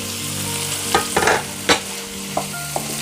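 Cooked vegetables for upma are stirred in a pan with a spoon, producing a few short scraping strokes over a faint, steady sizzle, close and without talking.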